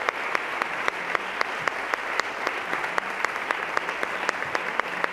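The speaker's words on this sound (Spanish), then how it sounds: "Quiero que un aplauso para ellos." Steady applause from a crowd at a Seville Holy Week gala, many hands clapping at once with sharper individual claps standing out, continuous and moderately loud throughout.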